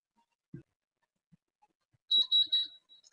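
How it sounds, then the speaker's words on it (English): Three short, high-pitched electronic beeps in quick succession from an appliance, fairly faint, preceded by a few soft clicks and knocks. "you can hear it beep again, and that means it's done"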